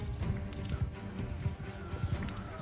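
Horse hooves pound in a rhythmic clip-clop gallop during a cavalry charge in the video game Mount and Blade 2 Bannerlord, steady and fairly close over a dense background of game noise.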